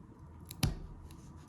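Scissors make a single sharp, close snip while trimming paper for a handmade Valentine's flip-flap folio, in an otherwise quiet room.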